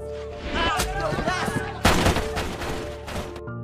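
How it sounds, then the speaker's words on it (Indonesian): Gunfire in a scene from the 2002 film City of God: a loud, dense burst of shots and blasts over background film sound and music, with one sharp loud crack about halfway through. "Lizzie menembak secara random ke arah rumah Knock"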